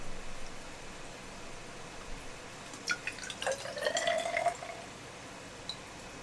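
About 40 ml of water is poured into a container for a chemistry experiment, with a short burst of trickling, dripping splashes lasting a couple of seconds against a quiet background.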